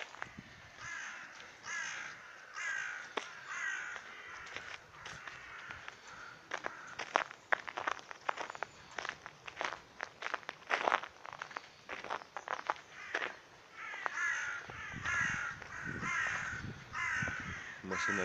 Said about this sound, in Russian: А воронам все равно. Радуются солнцу, каркают.